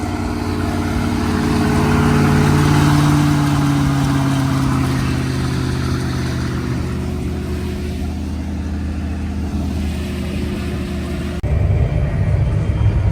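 Mower engine running steadily in a farming video game, a loud continuous drone with a slowly shifting pitch, then a sudden change in tone near the end; no voices.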